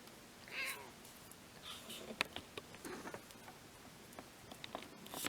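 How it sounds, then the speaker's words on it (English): A cat gives a short meow close by, followed by soft scattered ticks and pattering movement in a quiet room. "You gotta have a cat in here."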